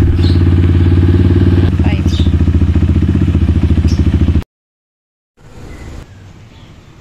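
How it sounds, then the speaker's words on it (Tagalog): A KRY 200cc motorcycle engine runs loud and close after carburetor fuel-screw tuning, with a steady, throbbing idle that cuts out abruptly, then restarts at a lower, rougher level. "ititesting natin yung tinuno natin na karburador nitong KRY 200cc natin"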